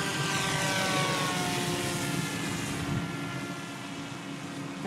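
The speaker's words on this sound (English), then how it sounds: "I haven't seen the plane on the screen since it left the ground." Bixler 2 RC model plane with an electric propeller, flown after repairs, droning steadily overhead at a distance, its whine holding level and slowly fading slightly, with no talking.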